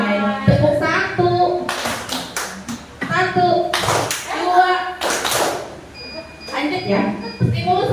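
A group of teachers in a positive-discipline training session claps in short counted bursts, with several sharp, loud clusters of claps separated by a voice calling out and people talking in between.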